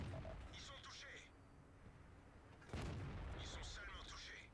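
Tank cannon firing at a Waffenträger tank destroyer in World of Tanks, a single heavy boom partway through over rumbling engine noise, with bursts of game interface and talk-like sounds around it.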